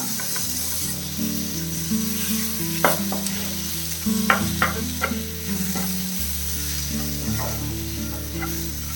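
Squid masala with tomato sautés in a hot pan, a continuous close sizzle broken by scraping stirs from a spoon, with a low steady hum from the stove beneath it.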